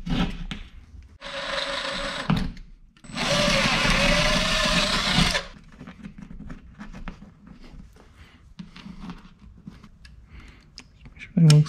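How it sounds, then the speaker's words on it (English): A power drill whirs in two loud bursts, a short one and then a longer sustained run, followed by quieter handling and tapping sounds. "I'm gonna drill that out."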